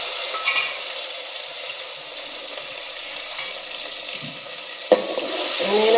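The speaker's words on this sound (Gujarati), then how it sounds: "અને ટમેટા મરચાં વઘારમાં નાખી દઈશું" Tomatoes and chillies dropped into hot oil for a tempering with asafoetida and curry leaves, giving a steady bright sizzle close by, with a short clatter near the end.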